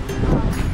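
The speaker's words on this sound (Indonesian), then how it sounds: "lagi kencengnya angin ini" Strong wind blowing outdoors around a campervan stop where food is being cooked, heavy low-frequency buffeting and rumble against the microphone, loud and continuous with a voice mixed in.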